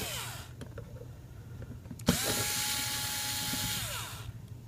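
Small screws being backed out of a circuit board on a 520MD+ spool valve: after a sharp click, a power driver whines steadily for about two seconds, then winds down, over a low background hum.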